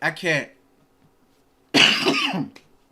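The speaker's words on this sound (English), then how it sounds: "They got me coughing." Two harsh coughing bursts, close and loud, separated by about a second of near silence.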